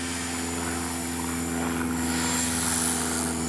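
A Blade 300X RC helicopter flies circles in normal mode, its steady high-pitched rotor whine and buzzing drone holding continuous and fairly loud, swelling slightly as it passes overhead, with no talking.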